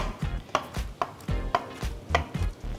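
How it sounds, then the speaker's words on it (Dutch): Pitted olives being coarsely chopped with a knife on a cutting board, sharp regular knife strikes about every half second, close and clear with no talk. "Olijven zonder pit. Hak ik een beetje grof."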